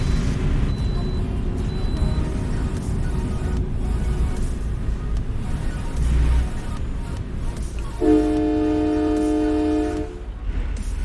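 A truck horn in American Truck Simulator gives one loud, sustained tonal blast near the end, over a steady rumble of engine and road noise.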